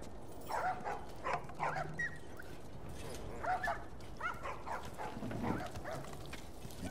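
In The Last of Us, a small puppy gives a handful of high yips and barks in short clusters, moderately close over a quiet background, with a little game dialogue around it.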